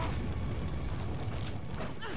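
A booming video-game explosion from Resident Evil 4 Separate Ways rumbles through a dense low-end wash, sustained and loud across the moment with a brighter crackle near the end.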